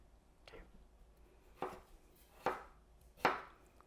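A knife slices potatoes into quarter-inch fries on a cutting board, giving four crisp chops at an unhurried, evenly spaced pace, each one louder than the last, close by and alone.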